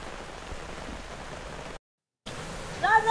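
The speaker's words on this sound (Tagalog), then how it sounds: "Lakas na ng ulan." Steady hiss of heavy rain pouring down at a forest campsite, briefly cut to silence, then returning with faint sounds rising near the end.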